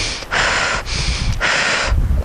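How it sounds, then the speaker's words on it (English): A person breathes in quickly and forcefully through the nose three times, each sharp inhale separated by a brief pause, close and loud with no talking. "We're going to breathe in really kind of quickly."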